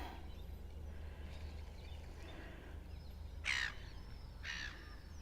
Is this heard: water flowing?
no